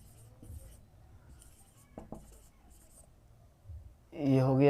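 A pen writing on paper during a Hindi grammar lesson: soft intermittent scratching strokes and small taps, fairly close, followed by a voice starting to speak at the end.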